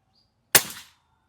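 A single sharp pop of a Daystate PCP air rifle shot at a target, close and crisp, with a quick fading tail, then silence.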